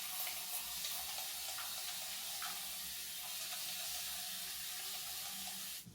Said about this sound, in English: you kind of just want to drench your hair a little bit with water